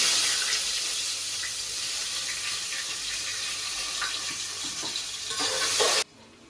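Onion frying in oil with cinnamon and cloves gives a dense, even hiss of sizzling that swells slightly near the end before cutting off sharply, with a few faint clicks and no voices.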